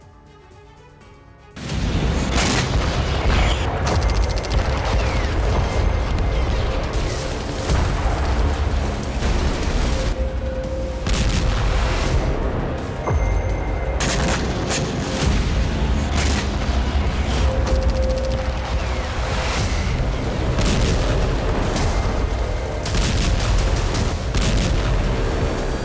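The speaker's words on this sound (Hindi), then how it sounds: "धमाकों से कांपती जमीन का वो हिस्सा जहां हर कदम पर मौत का खतरा है।" Heavy wartime explosions and artillery fire in Ukraine, loud and sustained, with dense overlapping booms and blasts rumbling continuously after a quiet opening second.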